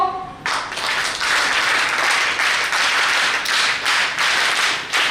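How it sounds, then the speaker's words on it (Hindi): An audience at a college NCC fest breaks into loud, sustained applause after a brief tonal sound at the start, the dense clapping swelling and easing in waves over several seconds. "एक सच्चे परफॉर्मर के लिए ऑडियंस की तालियां ही ईश्वर का वरदान है।"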